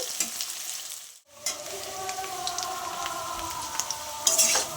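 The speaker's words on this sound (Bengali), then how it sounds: "আলুগুলো দিয়ে দিয়েছি আলুটা একটু ভালো করে ভেজে নেব" Potatoes fry in a pan of hot oil with a steady close sizzle, broken by one brief dip near the start and by a few utensil scrapes and clinks as they are stirred; no talking.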